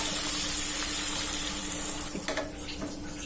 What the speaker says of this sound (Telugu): వాటర్ పోసేసుకుంటున్నాను ఇంకా